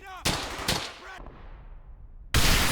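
Gunfire and an explosion in the World War II shooter Brothers in Arms: Hell's Highway, two sharp nearby shots followed by a booming blast that rumbles and fades, then another loud burst of fire cuts in.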